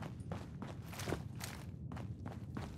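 Irregular footsteps thud and scuff in Fallout 4 with a Wolfenstein mod, inside an overrun resistance outpost, several quick steps close by over a low background hum.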